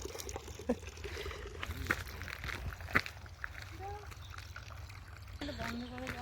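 Water runs from a free public tap in a German village near Baden-Baden, a light splashing trickle heard close by under a man's speech throughout.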